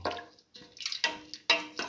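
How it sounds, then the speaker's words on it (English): Water poured into a pot of split pigeon pea stew being prepared for pressure cooking, heard as a few short, separate splashes and drips, close and fairly quiet, with brief gaps between them. "Now pour in 250 ml of water, mix"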